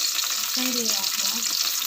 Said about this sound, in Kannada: ಕರಿಬೇವು ಹಾಕುವ.